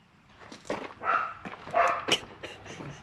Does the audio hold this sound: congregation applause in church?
no